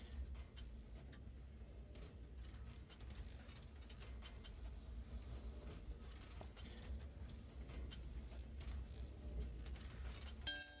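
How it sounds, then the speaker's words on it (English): A train pulling into a station in the video game Train Valley 2, a steady mechanical rattle and clatter of wheels and gears throughout, faint and continuous with no talk. "I'm going to build a bridge to connect it as soon as that train pulls in"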